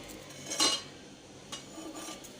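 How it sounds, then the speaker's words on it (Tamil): A cake tin dusted with maida flour is tapped, giving a few light metallic knocks close by: one clearer tap, then two fainter ones over a couple of seconds. "தூவிட்டு இந்த மாதிரி எல்லா சைடும் வர்ற மாதிரி தட்டி விட்டுக்கலாம்."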